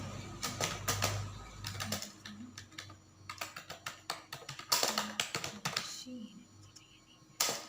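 Keys clatter on a computer keyboard in quick, uneven bursts with short pauses, close and clear, while a person speaks intermittently over the typing.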